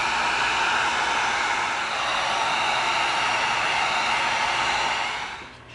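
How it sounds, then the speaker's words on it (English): Heat gun blowing hot air over EVA foam to seal it, a steady broadband whoosh held loud and close for about five seconds before tapering off at the end. "So we're going to come in with our heat gun"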